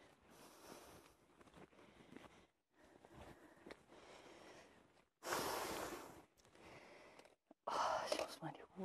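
Heavy, close breathing and panting of a hiker on a quiet walk through the national park on Cat Ba island in Ha Long Bay, Vietnam, coming in uneven bursts with a few louder huffs and no other sounds.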